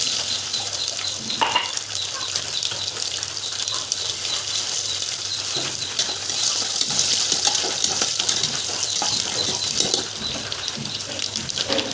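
Garlic sizzles and crackles steadily in hot oil in a pan, close up, with occasional stirring scrapes and no talking.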